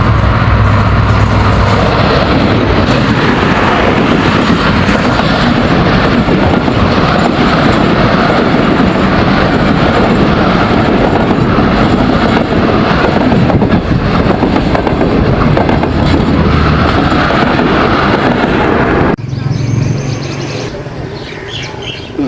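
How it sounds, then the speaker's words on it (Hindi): A six-section locomotive hauls a long train past at high speed on a Pakistan Railways line, a loud, steady rumble and clatter of wagons lasting about nineteen seconds before dropping away abruptly, with faint birds audible afterward. "अभी ये लोधरा ही था मगर बड़ी स्पीड लगा के आ गया है। ये 6 सेक्शन मोटर लोकोमोटिव है।"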